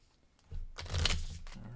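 A deck of cards for a Star Saga solo tabletop game is shuffled close by in a short burst of riffling and rustling that lasts about a second, with no voices.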